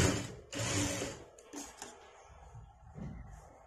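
Hook strips being stitched on a sewing machine, heard as close, loud bursts of rapid stitching separated by short pauses and quieter handling.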